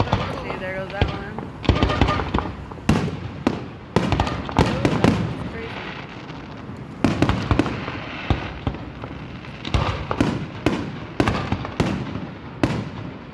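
Fireworks burst again and again at a 2021 firework show in Exeter, California, with sharp cracks and booms in uneven clusters, loud and echoing, some in quick crackling runs.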